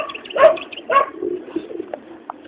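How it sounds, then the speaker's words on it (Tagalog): Two pigeons coo in low, soft bursts close by, a pair of rounded calls followed by quieter murmuring notes that fade out. "Ang kagwapo sa dalawang kalapati."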